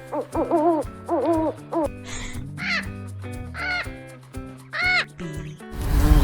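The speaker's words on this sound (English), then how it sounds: "owl" An owl hoots in a series of close, clear calls, several short hoots followed by longer rising ones, ending in a brief noisy burst.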